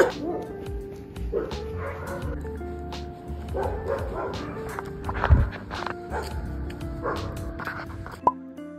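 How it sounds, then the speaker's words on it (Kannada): Dogs bark hard in the early morning around 5:30 in Bengaluru, giving several scattered yips and barks at a moderate distance, with footsteps passing close by and faint voices. "ನಾಯಿಗಳು ಭಾಳ ಕೆಟ್ಟು ಬೊಗಳಿರ್ತಾವೆ."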